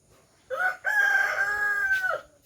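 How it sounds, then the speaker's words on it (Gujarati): A rooster crows once in a drawn-out call, loud and close, with a brief opening note, a short break, then a long sustained crow that trails off, with no talk. "તો ગાઈસ અમારા કુકડા પણ છે,"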